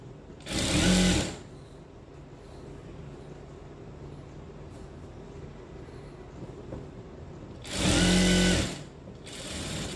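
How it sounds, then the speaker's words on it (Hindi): A sewing machine stitching blouse fabric runs in two short, loud whirring bursts about seven seconds apart, with a quiet room in between. "अब मैं इसको मशीन पे लगाऊंगी फैब्रिक को।"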